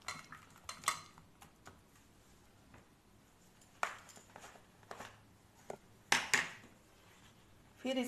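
A spoon stirs yogurt, turmeric and cumin in a bowl, making quiet, irregular clinks and taps against the sides with short pauses between strokes.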